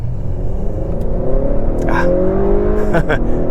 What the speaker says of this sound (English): time for a little handling test. I've got the car in sport mode, and I turned off the stability control.